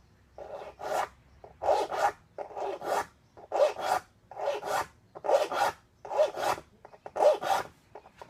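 A steel file rasps across the teeth of a rip saw being sharpened by hand, about nine close strokes in a steady back-and-forth rhythm with short pauses between passes.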